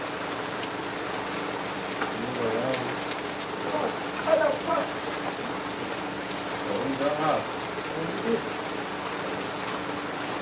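Heavy rain pours steadily in Lagos, a dense, even hiss on surfaces that has been falling for hours, while voices talk faintly underneath.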